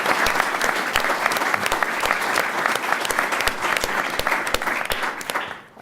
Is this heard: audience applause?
yes